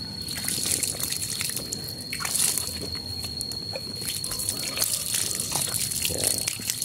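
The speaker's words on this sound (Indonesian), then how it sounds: "setelah ini kita siram sobat-sobat" Water trickling and splashing as newly planted garden flowers, alocasia on a house terrace, are watered, a steady soft patter with irregular drips and small gushes at moderate level, and no voices.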